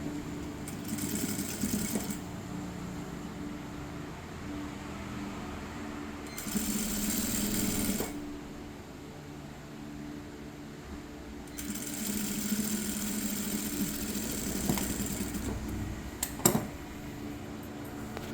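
A sewing machine stitches the hook edge of a lined blouse in three steady runs of rapid mechanical whirring. Quiet pauses separate the runs, and a brief clunk comes near the end.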